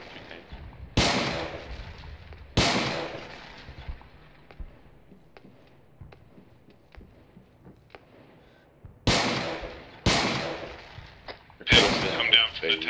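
Gunfire in an Arma 3 military battle, with four loud, sharp shots spaced irregularly and trailing echoes, plus scattered fainter distant pops and occasional voices between them.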